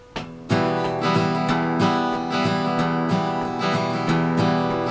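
An acoustic guitar strummed briskly in a steady rhythm, with low bass notes plucked between sweeping chords, close and clear.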